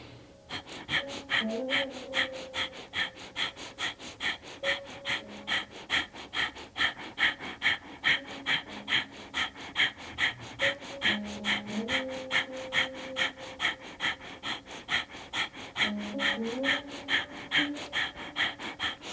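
Rapid rhythmic breathing during a kundalini yoga exercise with the arms held up, a steady train of sharp, forceful breaths repeating about twice per second for the whole stretch, close and clear under soft background music.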